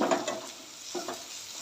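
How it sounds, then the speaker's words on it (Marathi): Ginger garlic paste frying in oil for chole gives a brief, soft sizzle with a couple of light stirring scrapes close by and nobody speaking. "ही पेस्ट देखील आपण आता एक ते दोन मिनटं छान तेलात परतून घेऊया"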